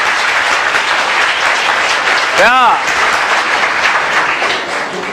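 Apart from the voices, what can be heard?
audience clapping and applause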